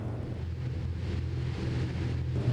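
A Sea Ray 510 Sundancer motorboat cruising at 25 knots and about 2700 engine rpm, giving a steady low engine drone mixed with rushing wind and water, continuous and close throughout.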